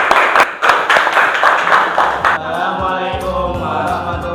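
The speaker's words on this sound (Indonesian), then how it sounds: "Beri tepuk tangan semuanya." Seventh-grade classroom pupils clapping their hands together in a burst of dense, fairly loud applause that fades into murmuring voices and speech.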